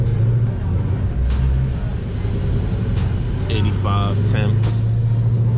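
A 1000-horsepower Hellcat pulling away in first gear, its engine rumbling loud and close from inside the car with a rising rev toward the end, while someone speaks over it.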